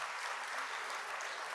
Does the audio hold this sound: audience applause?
yes